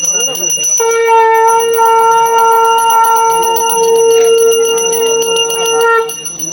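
A brass hand bell rung during a Hindu puja ritual, a steady sustained ringing that stays loud and continuous for about five seconds, with a chanting voice beneath it at the start.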